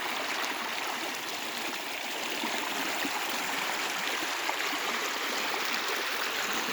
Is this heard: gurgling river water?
yes